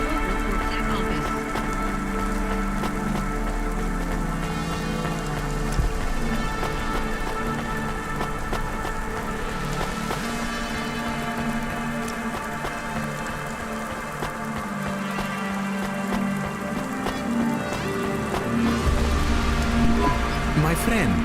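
Alkali rain falls in the video game Cloudpunk as a dense, continuous downpour drumming on surfaces, loud and unbroken throughout, with a low murmur beneath it.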